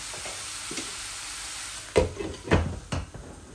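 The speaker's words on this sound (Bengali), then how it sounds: "এইভাবে আমি ঢেকে ঢেকে ভুনবো শুধু।" Vegetables with dried kachki fish frying in a covered pan, a steady low sizzle broken by a few sharp clattering knocks of the lid or spoon near the end, no voices.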